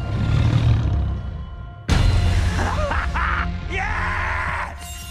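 Giant wolves roar and snarl as a movie trailer effect, with a deep rumbling bed of sound under them. After a sudden loud hit, drawn-out, wailing animal cries rise above the heavy low roar.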